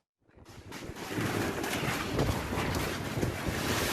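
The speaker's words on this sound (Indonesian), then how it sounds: "Detik-detik terjangan angin puting beliung ini direkam warga Palangga, Goa, Sulawesi Selatan." Tornado-force winds striking houses in Palangga, Gowa, South Sulawesi, a loud continuous roar of wind battering the microphone, rising after a short quiet start and staying dense and turbulent throughout.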